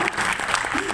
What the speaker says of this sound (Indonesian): Boleh tepuk tangan datang.